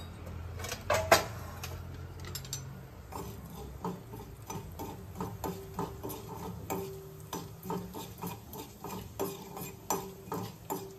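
A tempering of mustard seeds, cumin, turmeric and asafoetida is stirred in a small pan for a green tomato chutney, giving soft, evenly spaced taps and scrapes of the spoon over a light sizzle.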